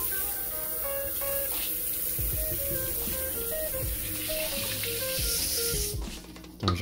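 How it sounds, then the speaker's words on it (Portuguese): Water poured into an Instant Pot for basmati rice, a steady splashing stream that runs without a break for several seconds and trails off at the end. "Então já coloquei a água."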